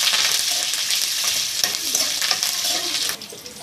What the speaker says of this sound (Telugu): కరివేపాకు కూడా వేసుకొని బాగా నూనెలో వేసుకున్నాం.